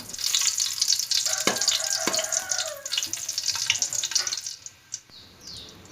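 Garlic cloves fry in hot oil with mustard seeds for a Tulu-style yam and chickpea dry dish, giving a steady close sizzle with occasional clinks and stirring scrapes, fading toward the end.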